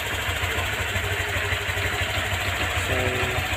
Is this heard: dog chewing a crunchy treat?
no